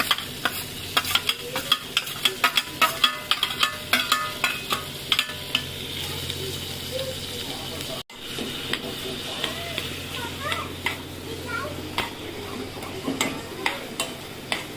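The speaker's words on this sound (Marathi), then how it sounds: "2 चमचे ऑइल टाकायचंय आणि कांद्याची आणि मिरचीची फोडणी द्यायची" Chopped onion and green chili sizzle continuously in oil in a pan as a spoon stirs and scrapes with repeated clicks, close by; a voice talks at times.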